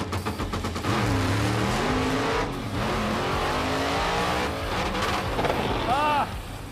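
A drag race car launches hard down a drag strip, a loud engine roar rising as it revs and pulls away, heard fairly close with a brief squeal near the end.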